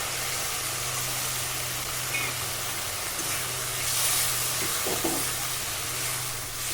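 Ground spice paste frying in oil in a pan gives off a steady, even sizzle, with a few light clinks of a utensil partway through.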